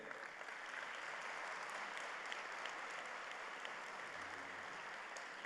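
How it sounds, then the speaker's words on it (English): Applause from a university commencement ceremony audience, a steady, even wash of clapping throughout, fairly faint and with no voices. "Please share a round of applause in appreciation of their appearance here today."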